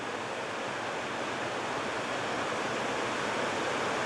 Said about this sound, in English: You could hear all this water rustling all the time we were coming up through here.